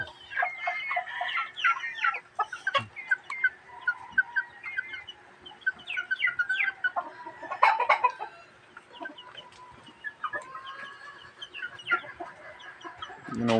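Several chickens cluck and chatter steadily nearby, with short overlapping calls and a few louder squawks scattered throughout.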